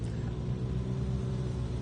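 An Ultra4 off-road race car rolls off the course in Jay, Oklahoma, appearing damaged, its engine giving a steady, loud low rumble with no talking over it.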